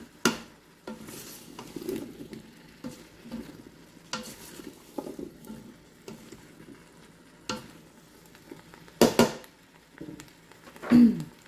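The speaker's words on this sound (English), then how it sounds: "We're going to stir that up." A spoon stirs seasoned squash in a pot, scraping and clinking against the sides in irregular strokes, with a few louder knocks near the end.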